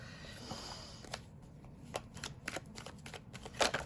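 Tarot cards shuffled by hand close to the microphone, a quiet run of soft riffling flicks and crisp snaps, irregular and growing slightly louder toward the end.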